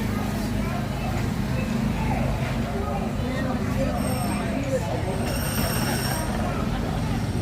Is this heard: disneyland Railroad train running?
yes